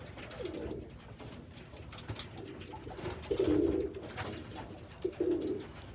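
Pigeons in a loft, old birds with young ones being trained, cooing softly in several low, repeated bursts against faint background noise.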